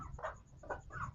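Young rooster (stag) clucking close by on a backyard farm, three quick throaty clucks in about a second, faint and alone without speech.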